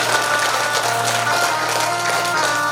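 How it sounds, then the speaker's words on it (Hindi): An audience at a Bhagwat katha religious gathering claps steadily and densely throughout, a continuous wash of applause with faint tonal background. "पंत जी के लिए जोरदार ताली बजाओ"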